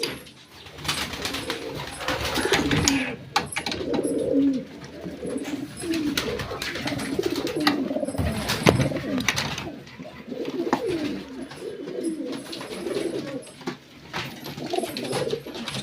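Pigeons coo in a loft, with a steady chorus of soft, throaty calls overlapping close by, plus occasional rustles and faint voices in the background.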